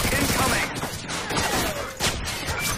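Rapid automatic fire from a deployed sentry gun in a fast-paced shooter video game, a dense clattering burst running for the whole stretch under busy game effects.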